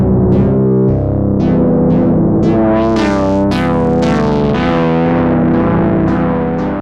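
Ableton Live effects rack modulated by Shaper, with dry and wet chains on a loud, dense synth tone that swells and pulses in rhythmic bursts of bright, distorted, chorus-like sweeps throughout.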